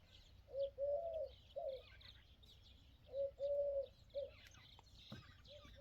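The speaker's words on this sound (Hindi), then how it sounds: "कबूतर बोल रहा है" Pigeon cooing in the morning beside farm fields, two clear phrases of soft repeated coos, each a short series of rounded notes, with faint chirps from other birds in the background and no talk.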